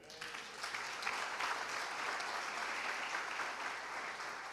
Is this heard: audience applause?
yes